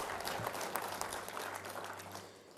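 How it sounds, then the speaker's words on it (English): Scattered audience clapping at a community awards event, fairly faint and steady for a couple of seconds with a low hum underneath, no voices. "Yeah, you can clap because that's true."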